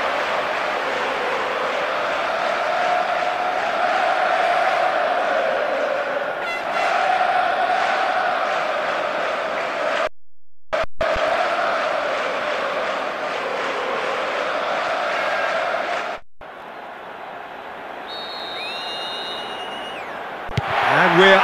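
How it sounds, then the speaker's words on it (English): A simulated stadium crowd in eFootball PES 2024 roars in a steady, loud wash of cheering and chanting, broken by brief cuts, before a short stretch of menu-like electronic tones. "The crowd wait to offer them a red-hot welcome."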